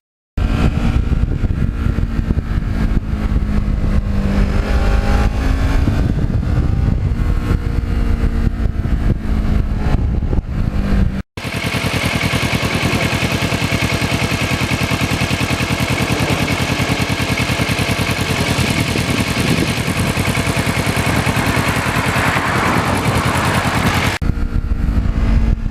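A black 2009 Kawasaki Ninja with an offset shock rides on back roads, its engine droning steadily with a rushing roar as speed builds in the second half.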